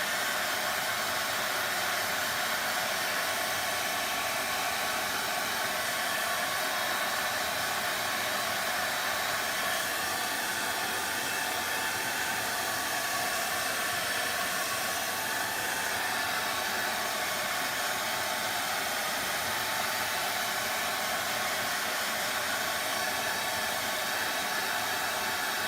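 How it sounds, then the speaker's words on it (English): Hair dryer blowing steadily over wet DIY paint and antiquing glaze, a loud continuous whooshing roar with no pauses and no voices. "Now I'm gonna dry it. When you're using a dryer, remember, you can push these little puddles of liquid around,"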